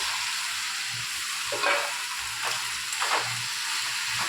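Vegetables hit hot oil and spice masala in a pan, giving a constant loud sizzle and hiss, with a few soft scrapes and clacks of stirring at regular intervals and no voices.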